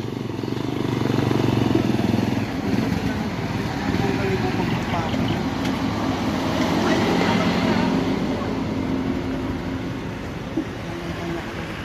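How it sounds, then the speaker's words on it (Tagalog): A motorized tricycle carries passengers on the way to Boracay, its engine giving a steady, loud rumble with road vibration throughout the ride. "Sakay na kami sa tricycle."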